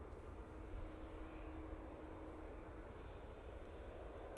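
A Boeing 787-9 airliner on its takeoff roll at Manchester Airport, a faint, distant, even engine rumble.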